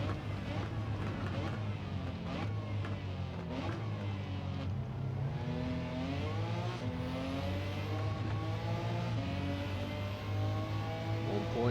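A BMW M4 safety car in Gran Turismo 7 on the Sardegna Road A circuit gives a deep, continuous V8-like engine rumble that rises and falls in pitch as it revs through the run.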